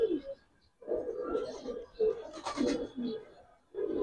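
Giribaz pigeons, including a female, give low rolling coos in several close bursts separated by short pauses, with soft rustling around them.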